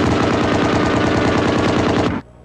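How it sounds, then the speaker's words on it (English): A long, rapid burst of automatic gunfire in the film The Dark Side of the Moon, loud and relentless, stopping abruptly into near silence at the end. "You just shot the devil in the face."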